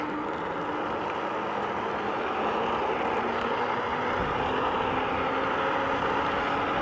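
An AuSom L2 Max electric scooter launches hard on the road, its wheel spinning with a steady, loud whir and rush that holds evenly throughout, with no voices.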